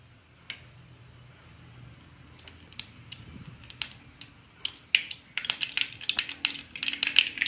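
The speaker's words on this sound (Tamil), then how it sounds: "கடுகு பொரியட்டும்" Mustard seeds popping in hot oil in a home kitchen, tempered for a green banana kootu: scattered sharp crackles and pops, sparse at first, then a dense burst of spluttering toward the end, fairly close and with no talk.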